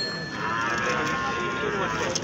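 A bull lows at the Deulgaon Raja cattle market, a drawn-out moo rising over a busy crowd murmur with people talking around it.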